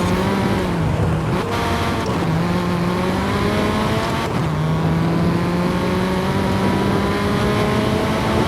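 A race car engine in Forza Horizon 5 revs hard and loud, climbing through the gears. Each upshift briefly cuts the climbing whine, and a steady drone runs underneath throughout.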